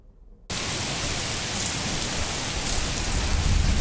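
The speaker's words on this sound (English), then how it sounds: "severe storms brought damaging winds and hail whipping through North Texas last night." Heavy rain from a severe North Texas storm with hail and damaging winds, a dense, loud, continuous roar of downpour that starts abruptly and stays steady, with no voices.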